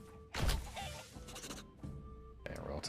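Chickens cluck around freshly built coops behind burgage plots in the medieval city-builder game Manor Lords, a few short clucks and fowl calls rising over ambient game sounds and background noise.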